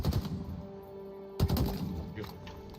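Sniper shots ring out in Halo Infinite as two loud, sharp reports, one at the very start and another about halfway through, with quieter game sounds and faint speech between them.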